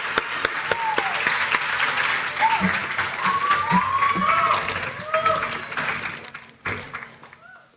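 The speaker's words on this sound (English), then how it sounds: "let's give these students a big round of applause" Audience applause for students at a high school senior awards night, a dense wash of clapping filling the room with voices and cheers mixed in, tapering off near the end.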